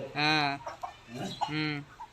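A rooster gives two loud, drawn-out clucking calls close by, with brief softer noises between them.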